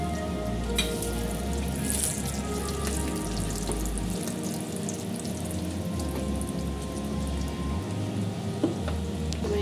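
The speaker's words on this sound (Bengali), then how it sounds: "এই তেলের মধ্যে 3টে শুকনো লঙ্কা দিচ্ছি, গোটা গরম মশলা, আর দিয়ে দিচ্ছি তেজপাতা" Three dry red chillies, whole garam masala and a bay leaf fry in hot oil, a continuous close sizzle with a low pulsing rumble underneath and a few scattered clicks, with no voices.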